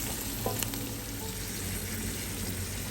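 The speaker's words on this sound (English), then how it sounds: "So let's add in our carrots. We're gonna saute those as well until they become a bit tender." Carrots sautéing with onions in a pan for butternut squash soup, a soft continuous sizzle with a few light stirring scrapes, no talk.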